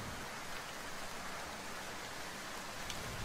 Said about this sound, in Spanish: Está frío, está lloviendo afuera, le puede hacer daño.